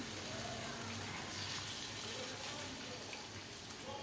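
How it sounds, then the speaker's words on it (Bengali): Water pours steadily into a pan of cooking jackfruit curry, a soft continuous gushing splash close by and fairly faint, with no voices. "এবার এর মধ্যে দিয়ে দেবো জল, পরিমাপ মতো আমি জল দিয়ে দিচ্ছি।"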